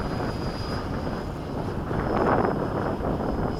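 Gusty wind buffets the microphone outdoors at a model boat pond, a rough, rushing noise that swells louder partway through, with no talking.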